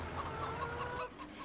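A hen in Farming Simulator 17 clucks in a series of rhythmic, evenly spaced calls over a low background hum, fairly quiet and short.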